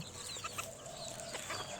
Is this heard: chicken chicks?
yes